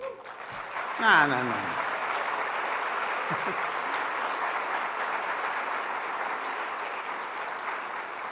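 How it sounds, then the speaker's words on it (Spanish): A church congregation claps together during a Spanish-language sermon, a steady wash of applause that carries on evenly for several seconds after a brief spoken word at the start. "Denle un aplauso al Señor."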